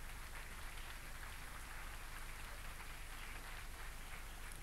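A theatre audience at the Sannazaro in Naples applauds steadily, a dense, even wash of clapping that continues without a break and sounds rather distant and soft.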